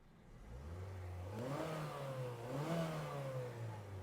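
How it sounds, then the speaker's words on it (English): A car engine runs close by, its low hum rising slightly in pitch as if lightly revved, then settling back to a steady drone. "Runs good, idles good, exhaust sounds good."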